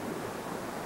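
Ocean surf at the beach, a steady broadband wash of rushing water with no distinct breaks, loud and close and heard alone.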